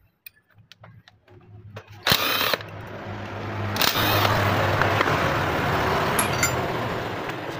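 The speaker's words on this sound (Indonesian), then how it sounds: "Buka bautnya." An impact or power tool whirs and rattles while removing bolts from a Honda Beat scooter engine, with short bursts that give way to a sustained loud grinding drone, up close.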